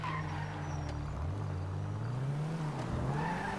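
A car in GTA Online skids under the e-brake, with a steady engine drone and a rising, bending tire-squeal tone that runs for several seconds at close range.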